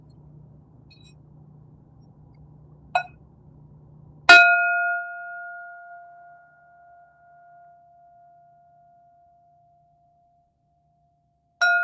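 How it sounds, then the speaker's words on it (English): A meditation bell is struck once after a low background rumble, ringing out in clear, pure tones that slowly fade over several seconds before a second strike sounds at the end. "we're going to go to second bell"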